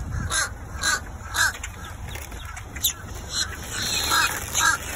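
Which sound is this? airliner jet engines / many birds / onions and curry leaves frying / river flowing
many birds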